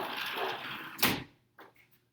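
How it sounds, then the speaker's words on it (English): A door swings shut with a firm thud in a home set up as a classroom, a single close impact after a stretch of background noise, followed by a faint brief rattle. "I'm going to close the door so he can't come"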